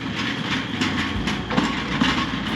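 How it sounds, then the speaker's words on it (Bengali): A tram runs along a street in Kraków's old town, a loud, close, continuous rumble of wheels on rails with a low motor drone and faint rhythmic clacking. "এই সাইডে দেখতে পাচ্ছেন ট্রাম চলছে"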